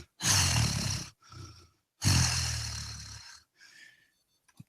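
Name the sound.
Orn growling, hackles raised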